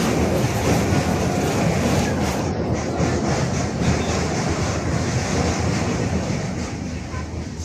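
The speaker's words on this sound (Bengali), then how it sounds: "ট্রেনে উঠে পড়লাম উঠে গিয়ে সিটও পেয়ে গেছি বসা" Passenger train running on tracks heading home from Digha, a continuous loud rumble and rattle of carriages heard from inside, steady throughout and easing slightly at the end.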